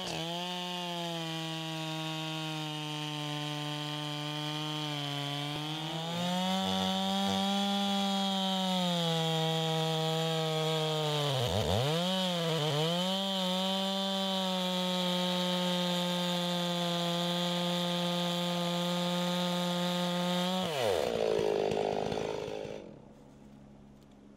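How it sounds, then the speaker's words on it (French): A chainsaw felling a tree runs steadily at high revs for a long stretch, pitch dipping briefly as it bites into wood, then cuts off abruptly near the end. "la tronçonneuse doit être affûtée correctement"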